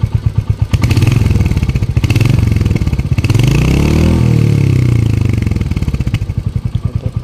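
A 2023 Royal Enfield Hunter 350 single-cylinder exhaust thumps at idle up close, then revs up into a loud sustained roar that swells and falls before settling back to a steady, pulsing idle.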